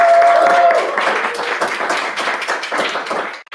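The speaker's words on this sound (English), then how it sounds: "So everyone, round of applause for Alex." A crowd at a club's CTF opening ceremony breaks into dense, sustained applause for an incoming speaker, with a brief whistle at the start before the clapping tapers off.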